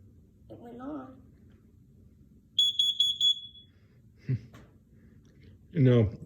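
A carbon monoxide alarm under test lets out a short run of piercing, rapid electronic beeps, close and loud, with a child's and an adult's voices before and after.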